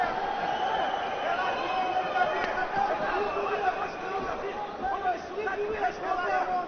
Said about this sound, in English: Crowd chanting for Ислам Makhachev.